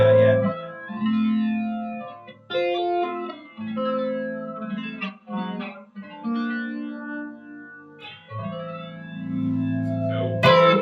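Electric guitar through a modulation pedal similar to an Electro-Harmonix Electric Mistress into a Fender Vaporizer amp, with sustained chords and notes carrying a swirling chorus-like shimmer, played alone and fairly loud.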